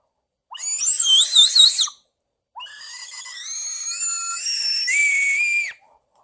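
Two bursts of shrill, warbling whistling from a toy bird whistle, a short trilling chirp followed by a longer wavering tone, bird-like and piercing with no talking.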